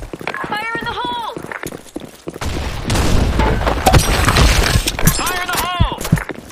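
A grenade goes off in a first-person shooter on the Office map, a loud rumbling blast that fills the middle of the clip, with game voice chatter and footsteps before and after.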